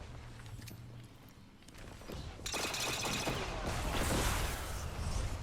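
Luna's Howl hand cannon fire in Destiny comes as loud cracking shots in a dense volley after a quieter start, with the game's gunfight noise sustained to the end.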